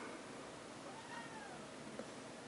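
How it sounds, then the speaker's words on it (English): A house cat gives a drawn-out meow somewhere in the background, faint and partly buried under a steady hiss of room noise. "There's my cat in the background."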